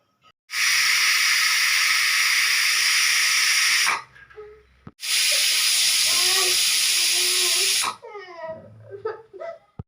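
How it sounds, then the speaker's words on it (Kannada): A pressure cooker cooking greens sambar lets off steam in two long, loud, hissing whistle blasts of a few seconds each, with a short pause between them. Quieter kitchen noises follow. "ಇವಾಗ ಇದಿಷ್ಟು ಹಾಕಿ ಇದನ್ನು 7ರಿಂದ 8 ವಿಜಿಲ್ ತೆಗೆಯೋಣ."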